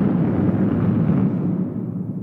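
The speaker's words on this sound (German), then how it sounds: "Heiliges Kanonenrohr noch einmal. Was ist das für ein verdammtes Geschieße?" Cannon fire in a staged opera scene of Der Bettelstudent, a single loud booming blast with a rolling low rumble that fades over two seconds.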